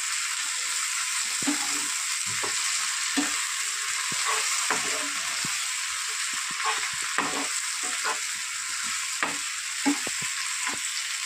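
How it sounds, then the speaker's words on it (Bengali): Ginger garlic paste sizzling in hot oil in a pan, a constant hiss broken by frequent soft scraping strokes of a spatula stirring it, close and even. "আদা রসুন বাটাটা দিয়ে ভাজা করে নেব।"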